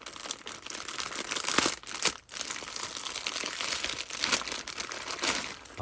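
Close crinkling and tearing of a waterproof sealed plastic MRE pouch being pulled open, with sharp rips and rustling bursts, no talking.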